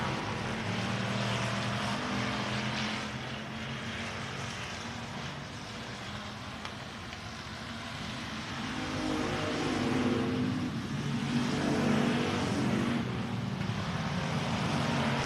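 Stock cars race around the RPM Speedway oval, their engines blending into a continuous droning roar that swells louder toward the end as the pack passes.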